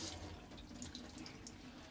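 Tap water runs steadily over newspaper being soaked to wrap a trout for oven cooking, a close, continuous splashing wash.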